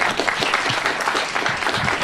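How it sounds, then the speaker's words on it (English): Full, continuous applause from an audience at a Korean War remembrance event after a bagpipe performance, close and steady throughout. "let's give her a round of applause for the bagpipes"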